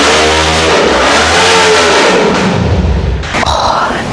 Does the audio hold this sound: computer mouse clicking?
no